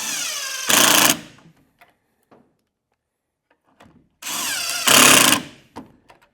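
A power driver runs pocket hole screws into wood in two bursts, each a loud whirring spin of roughly half a second to a second that rises as the screw seats, separated by quiet handling clicks.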